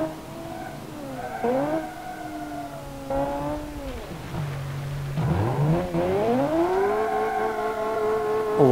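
A 700HP luxury sedan in BeamNG spins its tires, with a loud continuous engine drone and tire squeal that rises and falls in pitch through the gears, close and alone.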